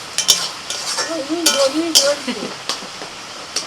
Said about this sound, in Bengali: এবার শুধু খুব জোরে জাল দিতে হবে আর নাড়াচাড়া করতে হবে অনবরত